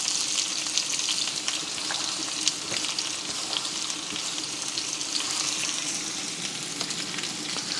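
Onions braise and fry in fat in a pan, giving a steady, close, dense sizzle with soft crackles throughout and no voices.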